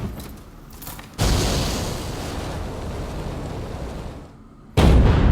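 A self-detonation explosion in Rise of the Ronin, a sudden loud blast that leaves a long rumbling roar, cut off near the end by a second loud boom.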